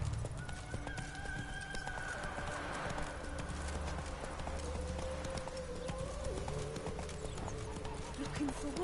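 Hooves of a horse clip-clop steadily in a Witcher 3 video game scene, with occasional whinnies and ambient birds, all under a continuous game soundscape with voices.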